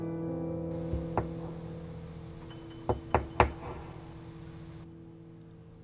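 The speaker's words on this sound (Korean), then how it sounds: "가볍게 벽을 노크했다." Light knuckle knocks on a wall: one soft tap, then a cluster of three quick raps, close and dry over faint background hum.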